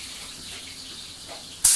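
A paint spray gun test-sprayed before repainting a Kawasaki K1 motorcycle's coverset, a steady airy hiss that ends in a sudden loud, close burst of spray.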